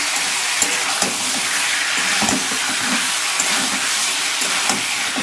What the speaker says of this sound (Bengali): চিকেনটা দিয়ে খুব ভালো করে কষাবো